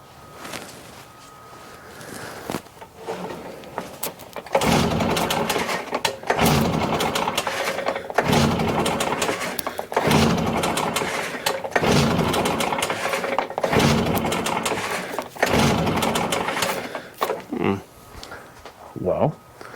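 Stihl BR800X backpack blower engine at full throttle with no choke, sputtering in repeated surging bursts that catch and fade rather than running smoothly, close and fairly loud, with brief talk between the bursts.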